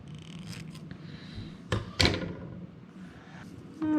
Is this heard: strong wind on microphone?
no